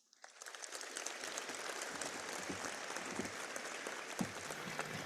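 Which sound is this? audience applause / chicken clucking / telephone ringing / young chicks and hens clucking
audience applause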